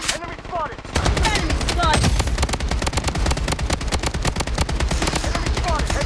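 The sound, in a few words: gunfire in Blood Strike video game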